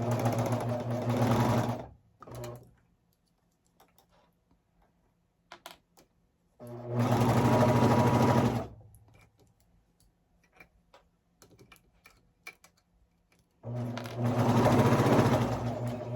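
A basic entry-level Babylock Vibrant serger sews baby leggings in three loud bursts of fast humming stitching, separated by quiet pauses with light ticks and clicks.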